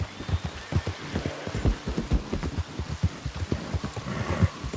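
Horse hooves clip-clop in a quick, steady rhythm on hard ground in the video game Red Dead Redemption II, close by, with a soft hiss like rain behind them.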